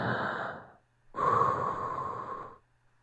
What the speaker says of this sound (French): je pratique la respiration profonde pour me relaxer